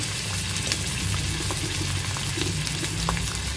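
Capsicum and onion frying together in a pan over a medium-to-high gas flame for chilli soybean, a steady close sizzle with faint stirring clicks and no talk.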